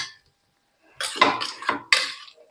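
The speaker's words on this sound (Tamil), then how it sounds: "அப்படியே நம்ம கரண்டியாலே சும்மா மசிச்சு விட்டுட்டோம்னா கத்திரிக்காயெல்லாம் இதாகிடும், நல்லா மசிஞ்சிடும்." Brinjal curry mashed with a ladle in a metal pan, giving several clattering scrapes and knocks of metal on metal, close and fairly loud after a short quiet pause, with no talking.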